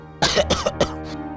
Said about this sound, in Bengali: আপনার কাশিটা কিন্তু ভালো ঠেকছে না